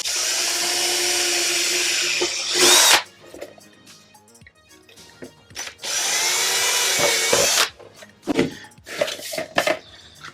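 A power drill with a 3mm bit bores a hole in a Boba Fett right gauntlet: two close, loud bursts of high whining drilling separated by quieter handling clicks, with no talking.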